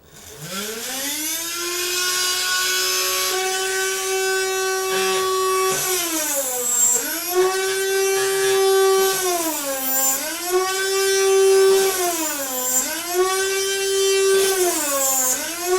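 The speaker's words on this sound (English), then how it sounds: "Now that's some high-speed drilling." A small high-speed 3D-printed miniature drill press whines loudly, its pitch dipping and recovering several times as the bit bites into material, then spinning back up.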